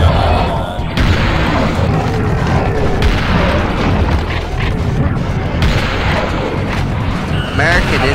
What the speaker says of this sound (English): We got these bombs again.